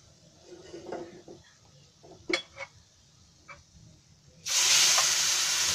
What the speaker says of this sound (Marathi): आता मी याच्यामध्ये आहे ना ते दूध ओतते हळूहळू, कारण ते एकदम गरम आहे ना